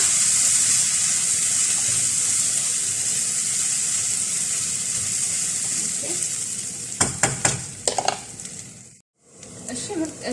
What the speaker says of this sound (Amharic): ከዛ እስከ 2 ደቂቃ ድረስ እንደዚህ ጠብሰዋለሁ።